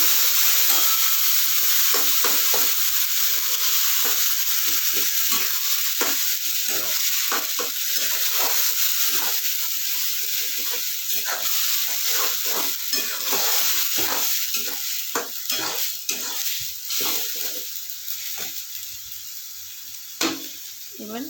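Ground paste for a pointed gourd mash fries in a pan with a hissing sizzle, as a spoon scrapes and stirs in frequent close strokes. Nobody speaks.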